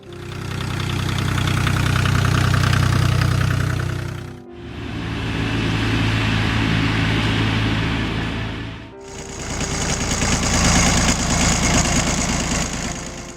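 A John Deere 750 tractor engine runs with a steady, loud, close mechanical drone, split into three segments with abrupt cuts between them.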